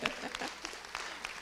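Applause at a school's 8th grade family and student night, as a student is called up to receive a t-shirt; a short, moderately loud burst of clapping from an indoor audience, with a few sharper claps standing out.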